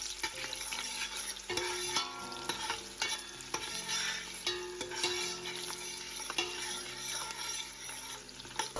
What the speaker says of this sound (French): Je vais rajouter comme ça les oignons que j'ai préalablement achetés et réservés. Je vais venir bien tourner.